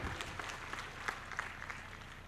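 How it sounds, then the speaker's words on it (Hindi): Faint clapping from a crowd at an open-air political rally in Ghazipur, a steady patter of many hands heard from a distance and rising in small bursts across the stretch. "एक ताली बजा दीजिए आप लोग।"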